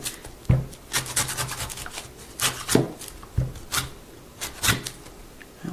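A big knife shaves the skin off ginger or a young coconut in a run of short, close scraping strokes, each a dry rasp, repeating unevenly a dozen or so times.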